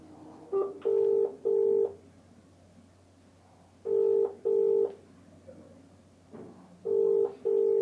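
Repeated outgoing call ringing unanswered on a phone line: a clear ringback tone in three double bursts with pauses between, alone and fairly loud.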